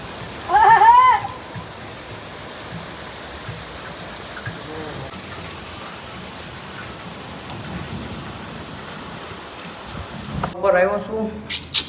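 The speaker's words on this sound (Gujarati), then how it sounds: "બહાર બહુ વરસાદ પડે છે" Heavy rain pours steadily outside, a dense continuous hiss of drops on surfaces. A person talks near the start and again at the end, and the rain persists between.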